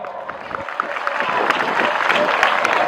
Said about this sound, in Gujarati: બધા તાળી પાડો તો જોરદાર તાળીઓ પાડો